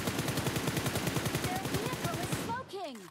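Sustained automatic gunfire in a PUBG Mobile match where players fight enemies using robots, a rapid loud burst of shots that gives way to a few descending electronic whooshes at the end.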